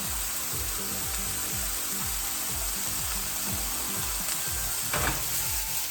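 Green beans and mushrooms sizzle steadily in a hot frying pan seasoned with salt and pepper, with a rhythmic scraping as the food is tossed and stirred about once a second.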